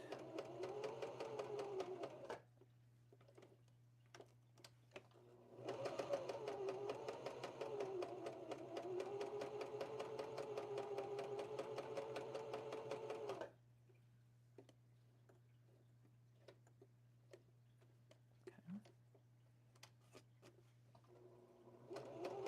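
A sewing machine stitches fabric for a doll in two bursts of steady, rapid mechanical whirring and ticking, separated by quiet pauses with faint clicks over a constant low hum.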